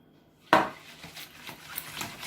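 A spoon stirring eggs with a pinch of salt in a bowl for quick cake batter, starting with a sharp clink against the bowl and followed by soft rhythmic scraping and tapping, close and quiet.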